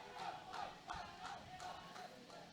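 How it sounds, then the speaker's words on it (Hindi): A crowd at a local cricket match claps and whistles after a batsman's boundary brings up a team fifty, with rhythmic cheering swells that sound somewhat distant. "तालियां बज रही है, शिट्टियां बज रही है"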